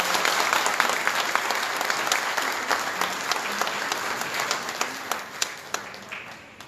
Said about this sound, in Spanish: rogamos un fuerte aplauso